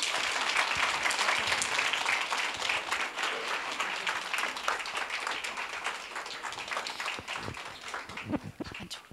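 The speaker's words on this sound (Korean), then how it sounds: "큰 박수 부탁드립니다" A crowd claps warmly at a public broadcast for a podcast's first-anniversary show as the cast comes onstage, a dense, sustained applause that thins toward the end with a few scattered louder claps.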